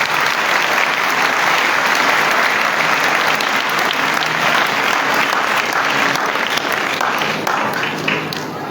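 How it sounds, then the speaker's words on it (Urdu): A congregation at Holy Rosary Church on Palm Sunday applauds new choir members: loud, dense, sustained clapping from many hands that fills the room evenly and tapers slightly at the end. "بھرپور تالیوں میں ان کا شکریہ ادا کرتا ہوں۔"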